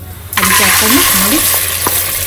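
A spoon stirs tamarind gojju with fresh tempering in a pan, loud and continuous with a steady sizzle and scraping under it, plus a couple of short knocks near the end.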